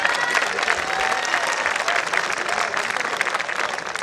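An audience at a Hindi comic poetry gathering (hasya kavi sammelan) breaks into loud, sustained applause, a dense wash of many hands clapping close by that continues evenly throughout.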